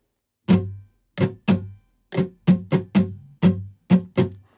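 Acoustic guitar strumming the chords of a song in a steady pattern, about ten crisp strums with short gaps, close and clear with no voices.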